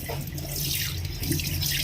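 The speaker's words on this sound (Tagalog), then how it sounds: "Hindi sabog ang tubig." Water runs steadily from a kitchen faucet into a sink, a close, continuous splashing stream with no talking.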